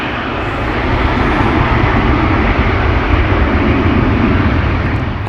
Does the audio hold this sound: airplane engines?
yes